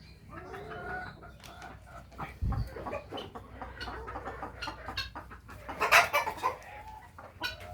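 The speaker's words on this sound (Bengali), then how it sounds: "এই যে অলরেডি একটা মুরগি ডিমেও বসে গেছে" Backyard hens in a home poultry flock cluck steadily at close range, joined by a louder burst of calls, likely a rooster, near the end, with a brief low thump early on.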